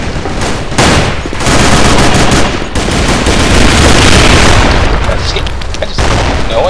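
Loud, dense gunfire in the Sudden Attack shooter video game, continuous rapid automatic bursts mixed with heavy booms and explosions, filling the whole stretch at close range.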